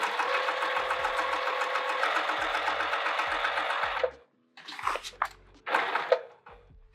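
A sewing machine stitching down a seam allowance on a bucket tote, running in a steady fast whir for about four seconds, then stopping and giving two brief short bursts.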